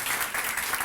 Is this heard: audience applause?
yes